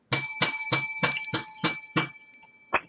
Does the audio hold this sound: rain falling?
no